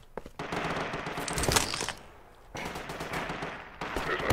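Rapid automatic gunfire from the Half-Life 2 Episode One video game, played with a cinematic mod, rattles in loud close bursts separated by short pauses.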